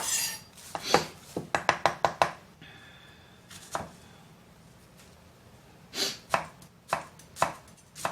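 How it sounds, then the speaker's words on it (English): A knife chops through peel on a cutting board in a home kitchen, a quick run of sharp close strokes, then a pause, then a few more spaced cuts. "let's cut the rest of this peel off of this"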